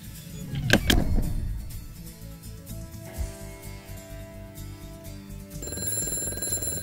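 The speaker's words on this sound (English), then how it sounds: "the phone is like ringing off the hook." A telephone rings during a live call-in broadcast: a sharp burst near the start, then a steady, ringing electronic tone toward the end over a busy background.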